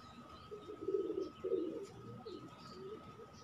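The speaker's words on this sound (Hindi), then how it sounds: "इनका बेबी पिजन आपको दिखाता हूँ, थोड़ा सा दाना डाल के, ठीक है, वो आएगा इधर ही, इनका बहुत अच्छा पक्षी है।" Pigeons coo at a pigeon loft, with a few soft, rounded coos in quick succession over a steady low hum and faint chirps.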